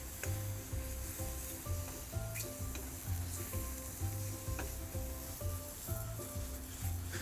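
Chicken pieces for chicken marsala sizzling in a pan, with a steady crackling fry and recurring low scraping or shuffling knocks repeating through the whole stretch.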